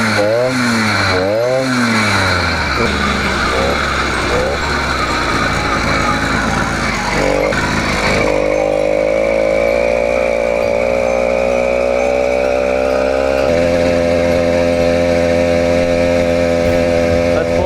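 A 100cc iron-sleeve motorized bicycle engine buzzes loudly and close, its pitch rising and falling in quick revs before holding at a steady higher drone while riding.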